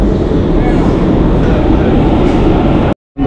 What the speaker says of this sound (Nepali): ठ्याक्कै आइपुग्यो ट्रेन हौ।